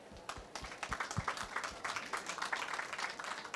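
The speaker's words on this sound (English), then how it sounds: "please join me in thanking them with an applause" Panel event audience applauds the panelists, a steady wash of many hands clapping at moderate distance, beginning with a few separate claps.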